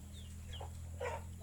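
A few soft, faint clucks from chickens over a constant low hum, spaced out across a short moment.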